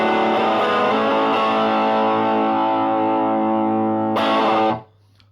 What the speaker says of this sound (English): for dirt I've got my DS1, so it sounds like this.